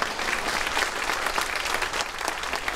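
Steady applause from a crowd at a royal party dinner during a May Day festival, sustained clapping throughout with no voices over it.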